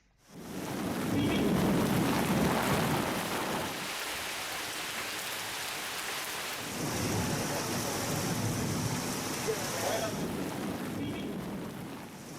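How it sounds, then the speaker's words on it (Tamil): Heavy evening rain driven by strong wind in Madurai district makes a steady, dense roar that swells and eases slightly throughout, with no voices. "இன்று மாலையும் பலத்த காற்றுடன் கனமழை பெய்ததால் அந்த பகுதியில் குளிர்ச்சியான சூழல் நிலவி வருகிறது."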